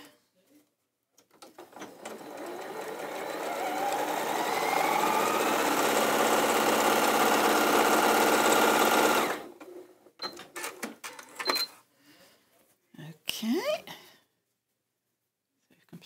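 A sewing machine stitches quilt strips, running in a steady whirring burst for several seconds at close range, followed by brief clicks and handling noises, with a person talking nearby.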